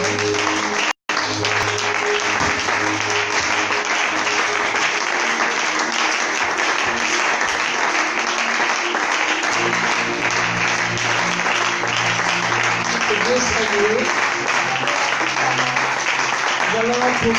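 A church congregation applauds the Lord in loud, steady clapping that runs throughout, with sustained musical tones underneath and one brief break near the start.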